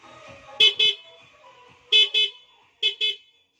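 Three pairs of short, bright stock horn beeps from a 2020 Yamaha NMax motorcycle, each a quick double toot, separated by pauses over a faint background murmur.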